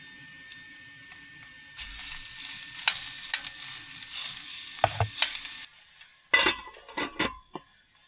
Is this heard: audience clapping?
no